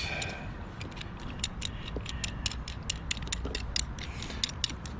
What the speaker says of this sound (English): I have this tiny little pipe wrench. I do believe it's screwed in.